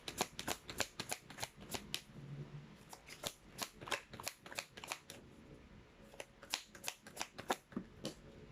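Tarot cards being shuffled and riffled by hand, a close, quiet run of quick crisp flicks and slaps in uneven bursts with brief gaps, no voice over it.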